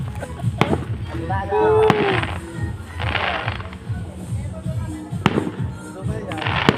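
Sharp New Year firework bangs crack out at scattered moments, some with whistling and crackle, while people talk and move around nearby.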